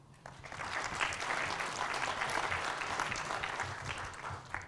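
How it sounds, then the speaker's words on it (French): An audience at the Agile Tour Paris 2017 conference applauds a sponsoring software company. The clapping fades in, then holds as an even, moderately distant, fairly quiet roar of many hands. "Softeam, merci d'applaudir."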